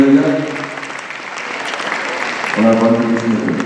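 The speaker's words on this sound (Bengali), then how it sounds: "একটা জোরে হাততালি" An audience at the Stagecraft Award 2024 ceremony claps steadily and loudly throughout. A voice carries over the applause at the start and again near the end.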